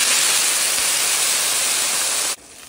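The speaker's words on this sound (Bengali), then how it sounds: "এবার আমি পানি দিয়ে দিচ্ছি।" Water pours into a cooking pot of fried beef khichuri base, a loud steady rushing hiss that stops abruptly near the end.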